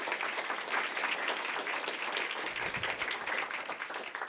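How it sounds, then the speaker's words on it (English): Audience applause in a hall after a NASA and SpaceX pre-launch briefing, dense continuous clapping at an even level without a break. "let's give them a big round of applause"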